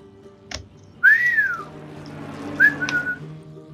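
A person whistles two rising-and-falling tones, the first a longer sweeping note and the second shorter with a held tail, close and clear over a faint background hum during gameplay of SimCity.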